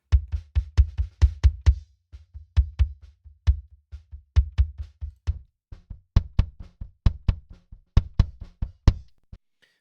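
An EQ-processed kick drum with a carved-out low-mid range plays a busy pattern of punchy, deep thumps. Each hit has a short click on top, and the pattern sounds alone in clear repeated bars.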